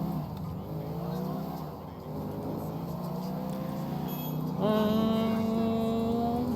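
A car driven in Grand Theft Auto IV, its engine revving steadily and then jumping in pitch with a gear change, loud and near, with no talk heard.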